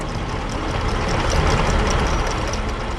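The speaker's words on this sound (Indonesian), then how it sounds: "Traktor hijau dengan alat pemecah tanah bekerja dengan gigih." Green tractor working a soil-breaking implement in a field: a loud, steady low engine rumble with dense broadband noise, continuous throughout with no pauses.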